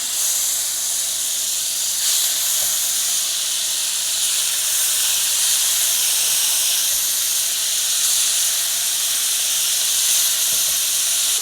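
Sea scallops searing in a hot pan, giving a steady, bright hiss and sizzle that runs unbroken throughout with no talking.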